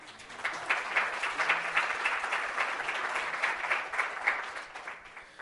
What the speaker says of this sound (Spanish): un aplauso para la Gaby.